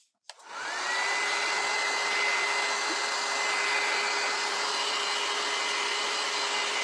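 A hair dryer switches on and runs steadily at full blast to dry craft pieces for spring garden wall decor, a loud, close, continuous whoosh with a faint whine and no talking.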